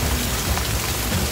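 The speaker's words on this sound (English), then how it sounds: "We got some rain. It's hail." Rain and hail pour down at the Okie Tex Star Party, a dense, loud, steady hiss of drops hitting surfaces with low rumbling beneath and no voices.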